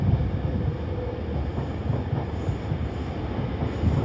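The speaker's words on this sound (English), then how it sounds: "Here comes the 1833 Avanti West Coast service to Manchester Piccadilly." Avanti West Coast service to Manchester Piccadilly passing at Primrose Hill, London, a continuous rolling roar of wheels on track, moderately loud and even, with no voices.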